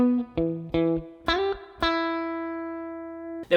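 An electric guitar plays part of a song, a few quick plucked notes, then a note slid upward that rings out and sustains for about two seconds before another pluck, close and clean.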